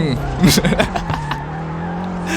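In the FR Legends racing game, a car drifts with its engine droning and tyres squealing, close and loud, while someone talks excitedly over it.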